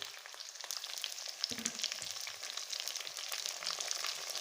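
Sliced tomatoes and whole green chillies frying with browned onions for aloo matar sabzi, giving a continuous bright crackling sizzle that thickens when the vegetables go in, close and steady throughout.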